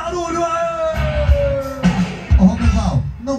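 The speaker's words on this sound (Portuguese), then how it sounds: "Quem gostou, grita e faz barulho aí." Spectators at the 2009 Bauru rodeo in Brazil yell, whoop and cheer after a bull ride, a loud surging roar with bursts of shouting, while an announcer's voice carries over it.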